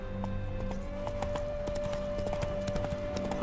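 Hooves of a horse clip-clopping at a steady ride in The Witcher 3, a continuous rhythmic patter of hoofbeats over game ambience and a sustained tonal hum, with no talk.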